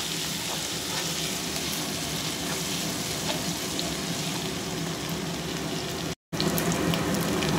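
Ginger garlic paste sizzles in hot oil in a pan while chickpeas are being cooked, with a steady close crackle and hiss running continuously and a very short gap near the end.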